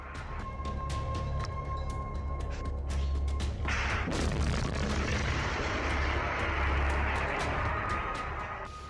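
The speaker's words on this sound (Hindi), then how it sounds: "धरती फाड़ धमाके" Deep, rumbling blasts of Russian missile strikes in the Russia-Ukraine war roll through a constant low roar, with a heavy burst around the middle swelling into sustained noisy thunder; no voices.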